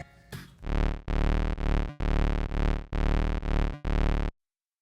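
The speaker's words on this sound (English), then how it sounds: "You can also use lo-fi to distort the sound and tremolo to rhythmically change the sound" Bass from a Boss RC-505 MKII loop station, roughened by lo-fi distortion and chopped by tremolo into eight rhythmic swelling pulses, loud and gritty, following a brief noisy burst and ending in silence.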